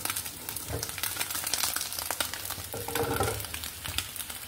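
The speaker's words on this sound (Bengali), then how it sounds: "এই যে পুঁটি মাছটাকে আমি হালকা করে ভেজে নিয়েছি।" Puti fish frying lightly in a pan, a steady broadband sizzle and crackle with faint stirring clinks, close and continuous throughout.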